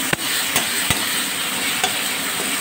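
A spatula presses and stirs salted, turmeric-seasoned tomatoes in a hot pan, a steady loud sizzle broken by a few sharp scraping knocks of the utensil against the pan.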